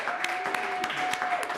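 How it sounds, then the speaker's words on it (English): Scattered clapping from a small open-mic crowd, with a few distinct sharp claps standing out over a light, thin patter. "can we just clap for that?"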